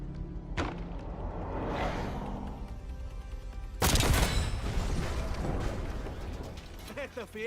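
Spawn tube launched in Black Ops 6, a sharp thump near the start, then a loud burst after a few seconds with rumbling debris, under intermittent talking.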